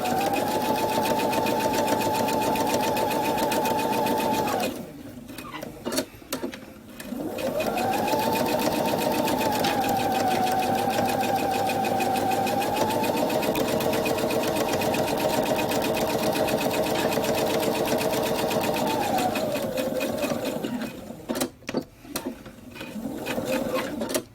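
Sewing machine stitching a seam with a 1/8 inch allowance on a simple belt bag, a steady loud whirring run that pauses briefly, then runs again for a long stretch before stopping; no talk.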